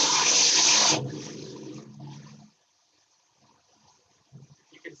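Hurricane storm surge water churns in a loud rushing burst for about a second, seen from a fourth-floor vantage point, then fades to faint sloshing and scattered splashes.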